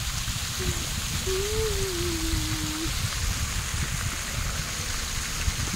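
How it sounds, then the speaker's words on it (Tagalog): Continuous splashing of a fountain at Bihu Lake Park, Taipei, a steady nearby rush of falling water, with a brief faint tonal whine drifting through early on and no talk. "Ang cute ng fountain. Ang tagal. Walang tigil."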